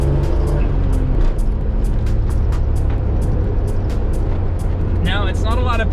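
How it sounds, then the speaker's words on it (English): Suzuki Cappuccino kei sports car engine revving up under acceleration, a loud, dense drone from inside the small car, with a rising whine near the end as the revs climb. "Let's give this thing some gas."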